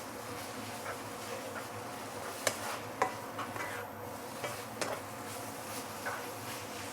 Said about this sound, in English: We don't want to stir fry for too long in the wok.